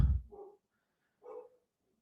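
A couple of house dogs let out two short barks near the door, one right after the other with a pause between, moderately loud and with no talking over them.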